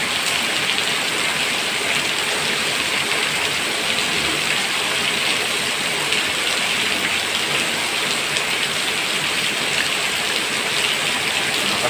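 Heavy rain during Typhoon Carina, a dense, loud, unbroken roar of downpour with no breaks or voices.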